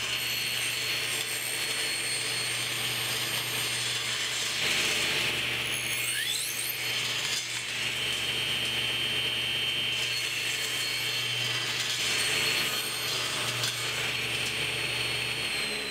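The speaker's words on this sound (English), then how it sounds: "I'm using a cross-cut sled in the table saw to cut the notch out." Table saw fitted with a regular 1/8-inch kerf blade, running a cross-cut sled to cut notches in reclaimed wooden beams: a loud, steady whining drone that holds for the full length, close by and with no one speaking.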